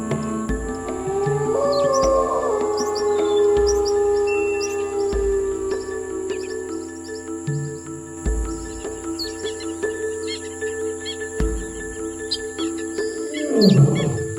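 A lion roars loudly and close, a deep drawn-out roar sliding downward followed by shorter grunting calls, with birds chirping in the background of a wild setting.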